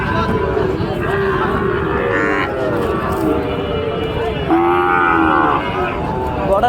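Cattle at a livestock market selling cows at wholesale prices, loud close moos rising and falling in long drawn calls, one after another over a busy background with people talking.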